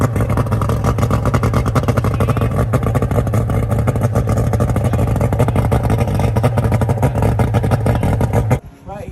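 A boat outboard motor runs loud and steady with a constant droning hum and faint rhythmic chatter, holding for about eight seconds before cutting off abruptly near the end.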